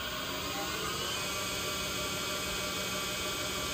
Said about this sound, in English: We take this negative rake scraper and we come across here and it'll clean that right up.